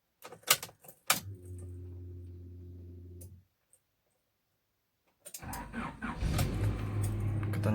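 A 2001 Honda Odyssey RA6 minivan fires up with a short crank, runs briefly and goes quiet, then starts again and settles into a steady idle, close by and preceded by a few sharp clicks.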